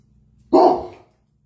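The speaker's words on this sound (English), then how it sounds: "You guys got the barking all the time." A dog barks once indoors, a single loud, close bark that cuts off cleanly into quiet.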